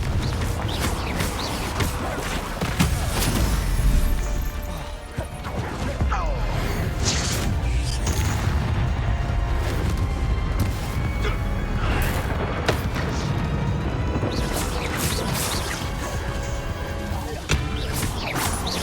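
Bombarda and Confringo explosion spells in the Hogwarts Legacy video game, dense repeated blasts, whooshes and crashes layered into continuous loud combat noise with game music beneath.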